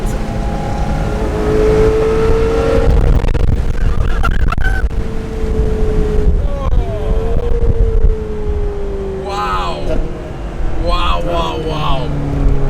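Ferrari supercar engine revving hard and climbing through quick gear shifts, loud rising howls broken by short shift breaks, with a voice talking over it.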